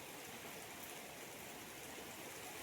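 Steady rain pours outdoors beside a Konkan home's courtyard, a dense, even hiss of falling water holding constant throughout with no voices.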